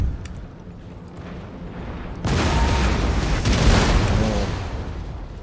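Cannon fire erupts in the Empire Total War battle as a sudden loud boom that swells into sustained rumbling blasts over a low background hum.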